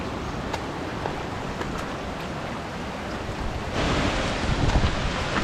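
The Kalu waterfall in its valley gives a steady, broad roar of rushing water with some wind buffeting. The sound is continuous and grows slightly louder near the end, with no talking.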